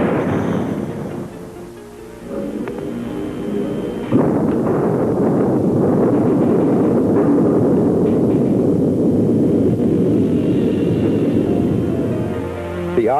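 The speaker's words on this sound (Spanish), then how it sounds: "Nos retiramos y permitimos que caiga el martillo." A drop hammer falls onto liquid oxygen mixed with grease, setting off a loud explosive burst followed by a sustained roaring, crackling rush of combustion that carries on for many seconds before easing slightly.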